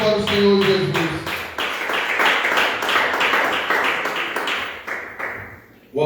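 Church congregation clapping together in a fast, even rhythm, loud and close at first with a voice or music fading underneath, then thinning out toward the end.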